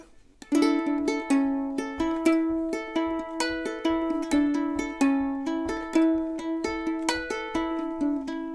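Ukulele strings are plucked in a steady, repeating pattern, each note ringing clearly and close, with no voices.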